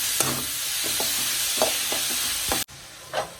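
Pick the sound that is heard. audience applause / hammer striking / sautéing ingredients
sautéing ingredients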